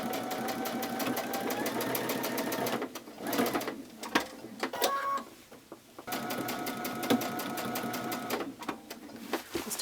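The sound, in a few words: sewing machine stitching scallop edge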